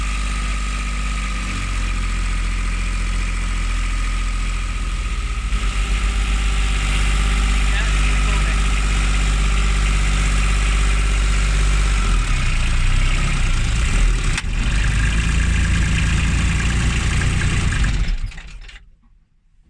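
Diesel engine of the narrowboat Kipper running steadily with a mechanical, ratcheting clatter, refusing to run in gear; loud and close, cutting out near the end.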